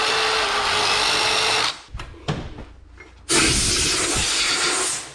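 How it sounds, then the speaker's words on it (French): A spinning wire brush on a power tool scouring around a valve on a rally car, a loud harsh whir that cuts out briefly with a few clanks, then resumes. "je vais aller nettoyer tout le contour qui est là avec une petite brosse métallique"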